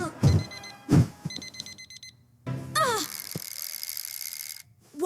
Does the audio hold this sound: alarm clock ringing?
yes